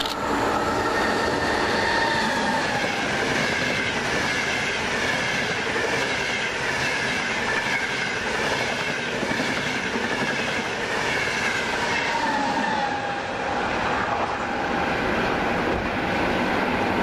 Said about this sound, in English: that something happens to be a northbound Frecciarossa,